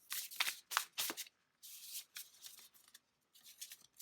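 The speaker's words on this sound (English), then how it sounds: "so I'll just keep shuffling" Oracle cards are shuffled by hand in several quick riffling bursts separated by short pauses, crisp and close.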